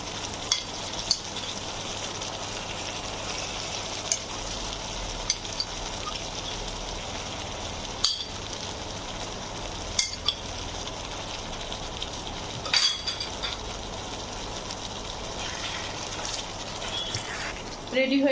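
Stuffed pointed gourds (potol) simmer in a boiling gravy, making a steady bubbling sizzle with occasional soft clicks and stirring knocks, moderately close, with a voice speaking faintly at times.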